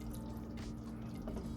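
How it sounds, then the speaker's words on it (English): Pot liquor from collard greens poured into a bowl, a steady close liquid trickle and drip running the whole time without talk. "You're supposed to pour the pot liquor in here."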